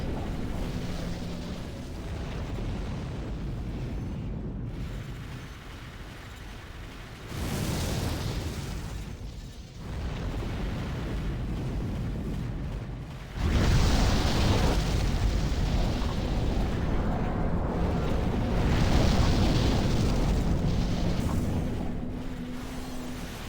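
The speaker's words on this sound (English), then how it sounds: "a couple of big hits from the cannon there" Cannon hits and explosions in the video game Armored Core: For Answer, with heavy booming bursts over a constant rumbling background that grow louder and more sustained toward the end.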